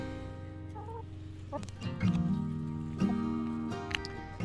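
Chickens cluck and squawk nearby in a garden in irregular bursts, layered over a steady background hum.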